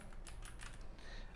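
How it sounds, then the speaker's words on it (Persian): Rapid typing on a computer keyboard, entering a password and a filename while hiding files in Windows; a steady run of light, close key clicks with no talking. "یه چیزی تایپ میکنم"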